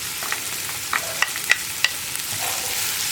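Crushed shallots and green chillies sautéing in a pan for a Kerala anchovy roast, a soft steady sizzle broken by a few sharp stirring clinks and scrapes, close and fairly quiet with no talking.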